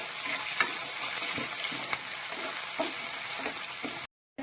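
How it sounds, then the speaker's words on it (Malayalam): Spices and curry leaves frying in hot oil for a homestyle bitter gourd pickle, a steady close crackling sizzle with small pops throughout, cutting out briefly near the end. "ഇതെല്ലാം ഇട്ട് നന്നായിട്ട് കറിവേപ്പിലയും കൂടി ഇട്ട് ഇതിനെ നന്നായിട്ടൊന്ന് മൂപ്പിച്ചെടുക്കണം"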